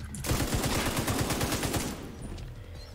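Automatic gunfire in The Division 2 rattles in a rapid burst of closely spaced shots for almost two seconds, then gives way to quieter game sounds.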